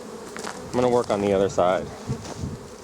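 Honey bees buzz loudly and steadily around an opened hive during an overdue inspection where brace comb is being removed, a close, dense droning hum, while someone speaks over it.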